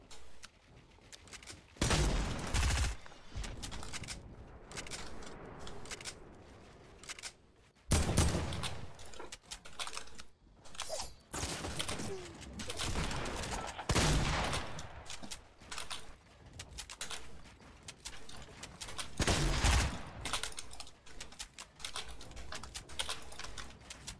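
Gunfire in the Fortnite Battle Royale game, with sharp broadband shots in scattered bursts and single cracks over a quiet background, some loud and close, others fainter.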